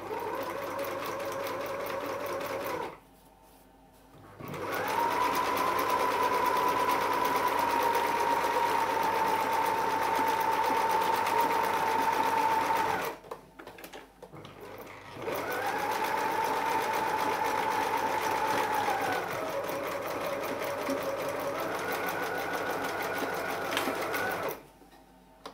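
A sewing machine more than 20 years old runs smoothly in three long, steady bursts with a continuous whirring hum, separated by short pauses; it is close and fairly loud, with no talking.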